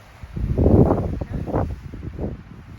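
Wind gusts rumble across a microphone outdoors, swelling and easing in a few close, loud buffets over about three seconds.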